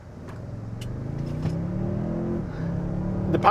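Twin-turbo engine of a 2022 Toyota Tundra 1794 Edition pickup with a 10-speed transmission, a smooth, steady drone building gently as it accelerates, heard clearly from close by and without talk.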